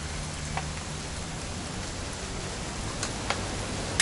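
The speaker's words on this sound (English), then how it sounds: "It's gonna rain the whole weekend," Soft, steady rain patters in a continuous hiss, with a few faint drips and ticks standing out now and then.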